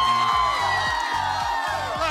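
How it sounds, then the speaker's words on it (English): A large audience at the MTV EMA awards screams and cheers continuously, a loud, dense wall of whoops and shouts with a few deeper yells breaking through. "These guys are so amped up, they'd scream at just about anything."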